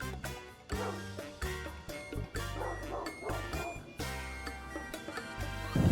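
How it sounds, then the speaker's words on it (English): A dog barks repeatedly at a bear up by a tree trunk, the bow-wow barks loud and close, with yips and whimpers mixed into a busy, noisy outdoor scene. "The dog watches him in confusion and barks as they lose their footing around the trunk."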